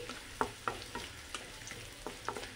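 Whole spices such as bay leaf, cardamom and cloves frying in oil with ginger for homemade veg fried rice: a soft steady sizzle with several sharp crackling pops and light stirring, close and fairly quiet.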